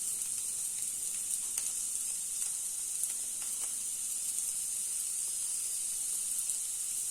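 Green pea paratha stuffing with masala cooks in a pan, giving a steady, even high hiss of sizzling with faint crackles throughout and no talking.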